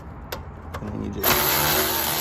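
A power tool turns a bolt under an E46 car while an Allen wrench holds it. A few faint ticks come first, then a loud rattling buzz bursts in and runs steadily to the end, with no speech.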